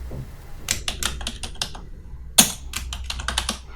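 Close keyboard typing in Microsoft Excel, a rapid run of crisp key clicks broken by a short pause and one louder keystroke before more quick taps, with no talking.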